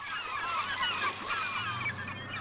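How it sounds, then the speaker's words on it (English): Herring gulls call from a bay meeting the sea, a loud overlapping chorus of honking, yelping cries that carries on continuously with no talk. "herring gull is one of the few seabirds to have increased dramatically in recent decades"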